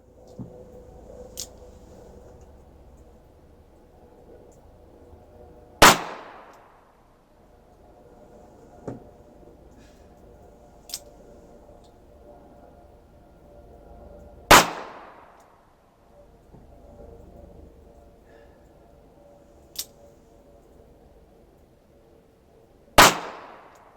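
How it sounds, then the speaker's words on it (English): Three loud, sharp gunshots from a Smith & Wesson Model 14 revolver on a cold outdoor target range, spaced several seconds apart, each with a ringing decay, plus faint clicks and handling knocks between shots. "we're going to take 6 more shots"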